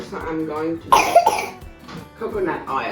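A single sharp sneeze-like burst breaks into a man's speech, with talking before and after it.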